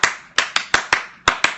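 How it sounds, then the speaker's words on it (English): Seven sharp, separate hand claps in an uneven rhythm, close and loud, as a quick classroom cheer with brief silence between each clap. "So then you clap."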